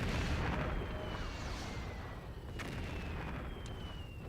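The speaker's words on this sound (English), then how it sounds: "I'm gonna go ahead and just start doing our airstrikes now" Airstrikes rain down in MechCommander 2, a steady rumbling roar of explosive bombardment with a sharp crack partway through and a thin whistling streak over the top.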